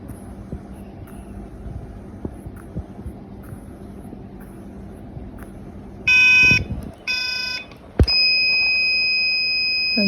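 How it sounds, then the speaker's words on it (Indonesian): A gas sensor's buzzer alarm sounds in two short pulsed electronic beeping bursts, then a sustained tone, loud against quiet background ticking. "maka akan terdeteksi LED merah dan buzzer akan menyala."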